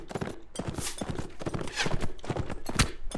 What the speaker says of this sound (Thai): ขี่ม้ามาด้วยความเร็วสูง